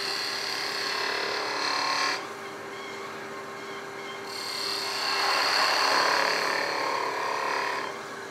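A wood turning spins on a lathe under a steady motor hum while a scraping tool rasps across it, the broadband scrape dropping off briefly and then swelling louder through the middle before easing.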